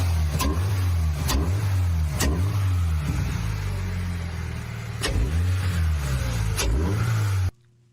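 A modified Toyota GR engine revs repeatedly in sharp bursts, each climbing then dropping back to idle, loud and close, before cutting off abruptly at the end.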